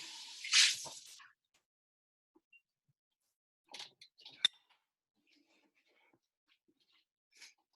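A glass jar is rinsed out with water: a short rushing splash at the start, then a few quiet clinks and drips in an otherwise silent room.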